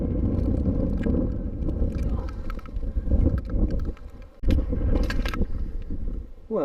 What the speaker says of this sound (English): wind's getting up a little bit, and it's starting to rain again